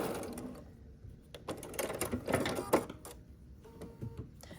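Sewing machine stitching quilt block squares together, short bursts of mechanical whirring and clicking with brief pauses between seams, fairly quiet and close.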